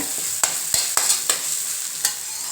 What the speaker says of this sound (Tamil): இப்போ நல்லா கிண்டி விட்டுக்கோங்க